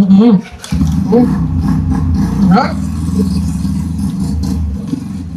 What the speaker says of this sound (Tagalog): Ano kasi New Year na kaya may mga motor, nagpapahinga-pahinga ng mga motor, di ba mga be?